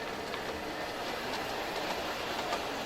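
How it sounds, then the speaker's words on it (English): A G-gauge model train runs on an outdoor garden layout, a steady faint rolling rumble with light rhythmic clicking of wheels over track joints, no talking. "Now, these are G-gauge trains."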